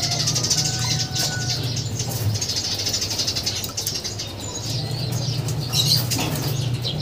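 Steady fluttering of many wings as pigeons flap in and land, a constant whirring flurry with faint cooing and a few brief chirps beneath.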